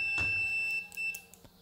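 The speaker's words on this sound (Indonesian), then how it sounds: "Saya akan coba mengukur dengan mode buzzer" Multimeter in continuity buzzer mode, checking for shorted diodes on the secondary side of a dead Sharp TV's power board: a faint, thin, steady electronic tone with a few soft clicks, no speech.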